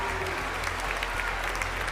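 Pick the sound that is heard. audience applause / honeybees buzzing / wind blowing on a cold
audience applause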